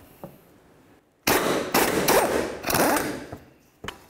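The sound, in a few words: loosening a subframe mounting nut on a 2006-12 Ford Fusion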